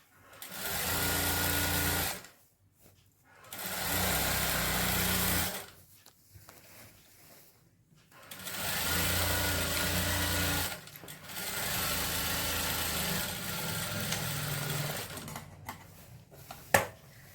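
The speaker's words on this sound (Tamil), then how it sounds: "அங்கெல்லாம் நம்ம இது பண்ண வேண்டாம், அப்படியே ஸ்ட்ரெயிட்டாக ஒரு தையல் போடுங்க." A sewing machine runs a straight seam on a churidar sleeve in three or four sustained bursts of fast mechanical whirring, separated by brief quiet pauses.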